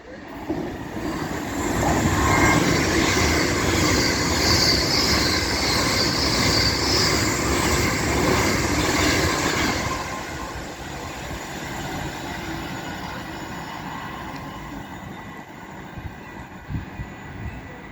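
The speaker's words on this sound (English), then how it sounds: "Avanti West Coast Class 390 running from Manchester Piccadilly to London Euston." An Avanti West Coast Class 390 Pendolino heading from Manchester Piccadilly to London Euston passes on the West Coast Main Line at Cheadle Hulme, a loud rushing roar for about ten seconds that then drops to a fainter fading rumble.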